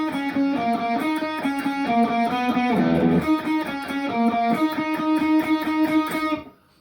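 Guitar playing the first section of a piece, a steady run of picked chords and melody notes with a slightly distorted tone, loud and continuous, with a brief denser strum near the middle before ringing out and stopping.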